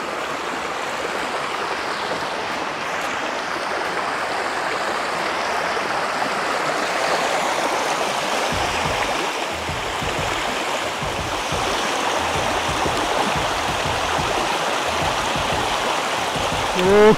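Steady rushing water from the Little Niagara Falls waterfall and stream in Chickasaw National Recreation Area, Oklahoma, a continuous close roar with low thumps of handling noise in the second half.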